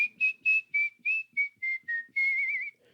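A person whistles a short tune close by, a string of clear, bright notes in a bouncy rhythm, ending in a longer wavering note.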